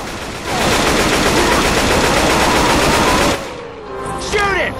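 Left 4 Dead 2 gunfire rattles in a dense, loud, sustained volley for about three seconds, then thins out into scattered game effects.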